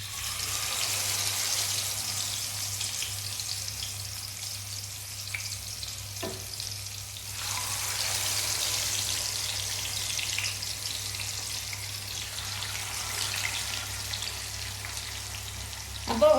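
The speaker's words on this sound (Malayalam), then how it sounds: "അപ്പം ഞാൻ ഫിഷ് ഒന്ന് ഫ്രൈ ചെയ്തെടുക്കട്ടെ. ഇവിടെ എണ്ണയൊക്കെ ചൂടായിട്ടുണ്ട്." Fish rubbed with masala fries in hot oil with a continuous, close crackling sizzle, with a few faint clinks along the way and no talk.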